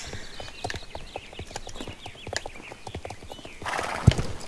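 A horse trotting in the video game Star Stable Online: steady, evenly spaced hoof clip-clops close by, with a brief whinny-like sound and a heavier thud near the end.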